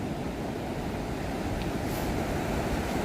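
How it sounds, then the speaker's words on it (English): Ocean waves wash onto a beach with a steady, broad rushing roar and some wind, continuous and moderately loud, with no distinct individual breakers. "it's soothing, the sound of the ocean, isn't it?"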